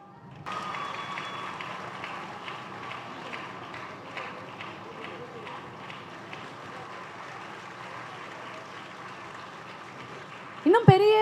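Audience applause at an award ceremony honouring women, a steady wash of many hands clapping at moderate distance that holds for several seconds before a voice breaks in at the end.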